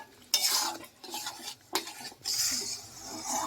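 A spatula scrapes and stirs thick, very dry mashed mung dal in a pan, in uneven bursts of gritty scraping with short pauses between strokes, close and fairly loud.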